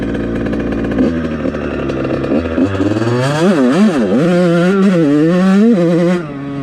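A Yamaha YZ85 dirt bike with an FMF SST pipe and shorty silencer idles and then revs hard on a holeshot launch, giving a loud, close, rising two-stroke scream with pitch swings.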